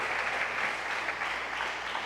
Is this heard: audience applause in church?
yes